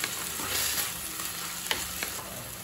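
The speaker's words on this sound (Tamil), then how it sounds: "இப்போ கீரையை நல்லாவே வதக்கியாச்சுங்க." Drumstick leaves (murungai keerai) with a little turmeric are sautéed in a pan, giving a steady close sizzle and crackle with a few soft stirring scrapes, and no talking.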